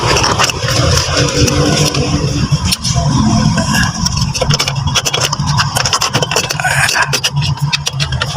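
A 2010 Ford Everest engine that has just had its ECU replaced runs loudly and steadily up close, with a rough, rumbling idle and some faint scraping noises throughout.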